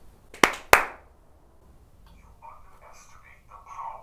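Two sharp hand claps close together near the start, fired off to test whether a clap-activated tech gadget responds, followed by quiet murmuring and faint indistinct voices.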